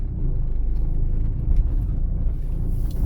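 A car driving slowly onto the grounds of a driving exam route in a city, heard from inside as a steady, loud low engine and road rumble with no talking.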